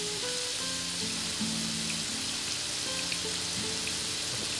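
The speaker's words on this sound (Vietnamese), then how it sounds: "Rồi ha, bây giờ các bạn cứ chiên nó." Marinated bottle gourd pieces frying in a pan, a steady crackling sizzle that holds through the whole stretch, close and even, with no voices over it.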